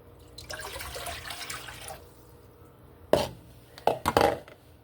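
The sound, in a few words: pouring water into a pot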